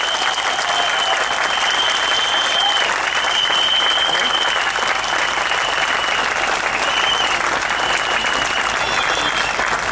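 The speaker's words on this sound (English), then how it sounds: "So, once again, a round of applause for Mr. Goh Meng Seng." Sustained applause from an audience at a political party event in Singapore, steady dense clapping throughout with faint crowd noise and no break.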